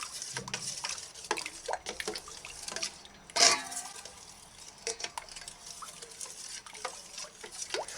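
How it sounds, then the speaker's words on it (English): Herbal tonic liquid stirred in a container, quiet wet swishes and small clinks repeating irregularly, with one sharper splash or knock partway through. "Mix the herbs oil in the tonic that is settling on the top."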